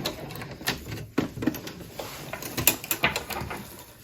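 A sewing machine runs a back stitch on a fabric oven mitt, making a close, busy mechanical rattle with quick clicking bursts and uneven pauses, no talk.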